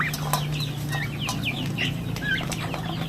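Rhode Island Red chickens cluck and call in bursts over a steady low hum, with short chirps and wing flaps mixed in, close and fairly busy throughout.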